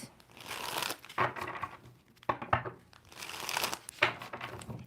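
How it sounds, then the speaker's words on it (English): Tarot cards are shuffled in repeated riffling bursts, each a close, crisp rustle of about a second with short pauses between. "2 more shuffles for Scorpio."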